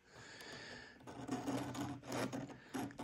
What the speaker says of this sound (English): I'm using the electric chain sharpener